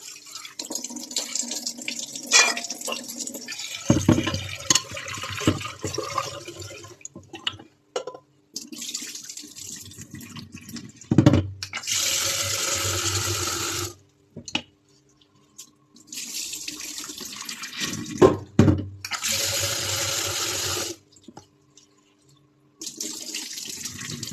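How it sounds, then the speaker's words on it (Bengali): Dal is rinsed under a running kitchen tap before going into a pressure cooker. Water gushes and splashes in several long bursts separated by pauses and drips, close and fairly loud, with no talking. "সব জিনিসেই পাউডার থাকে, ভালো করে ধুয়ে নিতে হবে।"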